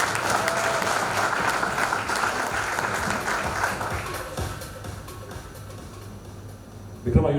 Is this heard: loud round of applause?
yes